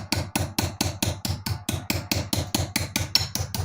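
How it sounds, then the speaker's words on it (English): Hammer striking a metal hinge clamped in a vise to bend it, a steady series of about fifteen sharp ringing blows at an even quick rhythm, close and loud with no talk. "Just hit it with a hammer a little bit"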